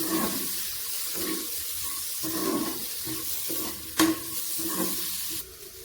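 Tomatoes sautéing in a pan for a quail egg potato roast, a steady wet sizzle with repeated stirring scrapes and one sharp knock of the spoon near the end, close and fairly loud, no talk.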